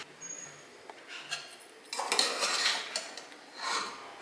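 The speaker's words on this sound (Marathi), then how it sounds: "एक चांगला हलवून घ्यायचं, व्यवस्थित परतायचं" Mushrooms being stirred and sautéed in a metal pot, with a utensil scraping and clinking against the sides in irregular bursts, moderately loud and close, with no talking.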